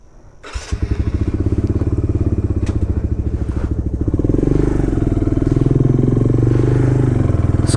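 A Suzuki RV125 motorcycle idles with a steady thumping putter, then pulls away and its engine note rises and holds as it rides, loud and close throughout.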